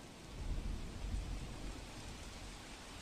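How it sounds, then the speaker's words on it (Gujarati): Heavy monsoon downpour in Mehsana, Gujarat, with low-lying streets flooding: a dense, steady, loud roar of rain that stays constant throughout, with no voices. "મહેસાણામાં છેલ્લા 1 કલાકમાં ધોધમાર જેટલો વરસાદ ખાબક્યો હતો।"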